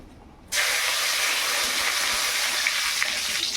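Bay leaves and panch phoron hit overheated oil with a sudden loud sizzle, then a steady bright hiss that stays strong and close throughout, with no voices.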